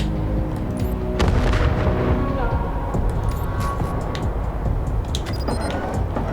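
Vehicle turret firing in Wasteland 3, set in Colorado: dense booming blasts and rumbling gunfire that run loud and continuous throughout, with sharper cracks layered over a heavy low-end roar.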